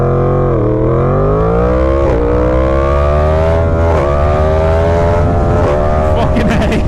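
A Yamaha FZ-10/MT-10 motorcycle accelerates hard, loud and close. The engine note climbs steadily, with quick short shifts through first and second gear briefly dropping the pitch before it rises again.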